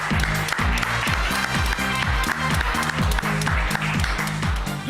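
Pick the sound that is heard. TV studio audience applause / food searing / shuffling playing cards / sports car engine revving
TV studio audience applause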